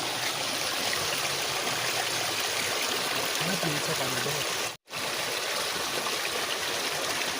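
An icy mountain stream in Abbaspur, Kashmir rushes loudly and steadily close by, a continuous broadband wash with a faint voice underneath and one brief dropout.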